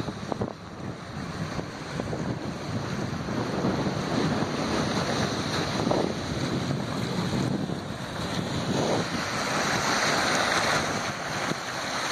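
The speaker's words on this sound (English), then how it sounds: "Because it is pretty windy." Strong wind roars and buffets the microphone continuously, with a broad rushing noise like surf or open water underneath.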